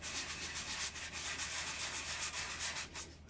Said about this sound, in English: it's just a natural place to rough up the cardstock